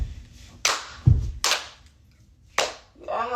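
Single sharp hand claps in a dance routine, a few crisp isolated smacks spaced unevenly apart with short soft thuds between them, close and fairly loud in a quiet room.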